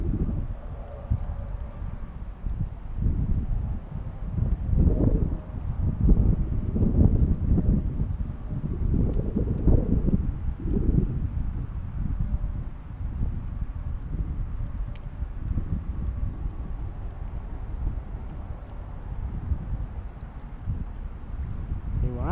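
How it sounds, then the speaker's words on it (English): Wind blows outdoors during a fishing outing, buffeting the microphone in low, irregular gusts, with a person talking intermittently over it. "Our wind is coming out of the south."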